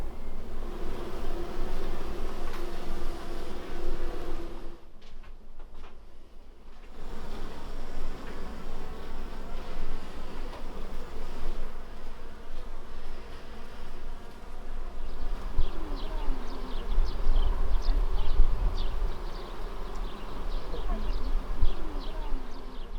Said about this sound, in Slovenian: Čebelarim pa okrog 40 čebeljih družin.